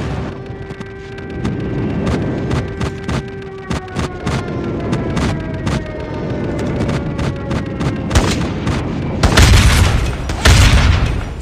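An airstrike pounds the battlefield in COD Mobile with loud, rapid booming explosions in dense bursts, growing heavier toward the end amid gunfire-like crackle.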